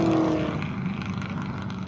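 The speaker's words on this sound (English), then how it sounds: "So cars rolling down the pit lane here" Race cars roll down the pit lane at Lime Rock Park during a GRIDLIFE Circuit Legends race day, a steady broadband engine rumble and whine holding at moderate loudness throughout.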